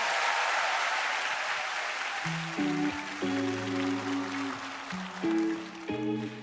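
An audience claps warmly to welcome a performer onto a KBS music show stage. The steady applause fills the room as a live band starts up partway through.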